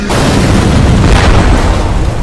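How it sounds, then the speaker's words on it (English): A bomb explodes in a Skibidi Toilet animation, a loud sustained roaring boom that fills the moment with dense low rumble and no voices. "Oh shit, it's a bomb."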